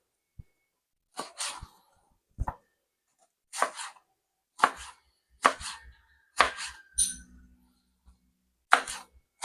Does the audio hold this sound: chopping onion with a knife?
yes